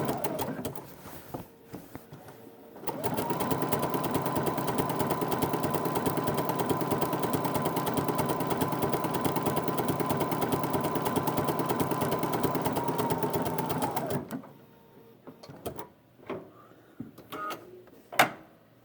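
A Bernina 46C sewing machine stitches pin tucks in one long, steady, rapid mechanical whir of about twelve seconds, close and clear, with handling clicks before and after.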